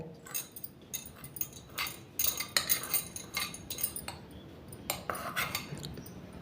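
A metal spoon stirs turmeric pickle with oil and red chili powder in a bowl, giving repeated close clinks and scrapes in an irregular rhythm with no talking.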